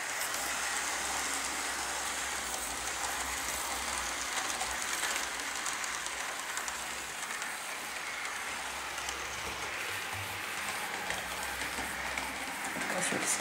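A Bachmann intermodal model train runs along its track, a steady close rumbling whir with fine rattling that continues without a break.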